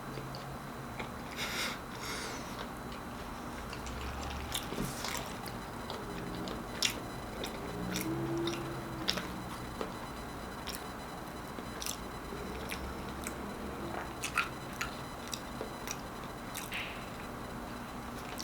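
Someone chewing a McDonald's Travis Scott meal burger, soft wet munching and squishing with small clicks that repeat through a long stretch, close and quiet, with no talking.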